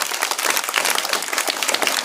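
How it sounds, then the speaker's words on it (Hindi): Children at a school gathering break into a steady burst of clapping and applause, dense and continuous throughout, close by with no voices over it. "इनके लिए ताली होना चाहिए।"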